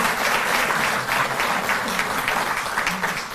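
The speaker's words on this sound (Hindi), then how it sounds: "जोरदार तालियां बजें" An audience claps loudly and steadily at a public ceremony where a chief minister hands out compensation to farmers. The applause is dense, continuous and close, with no clear speech over it.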